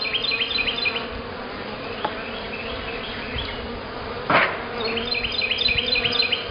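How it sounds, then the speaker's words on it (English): A honeybee swarm buzzes on a drawn-out hive frame in Lithonia, Georgia, with a continuous close insect hum, one brief louder surge midway, and no voices. "a large amount of bees"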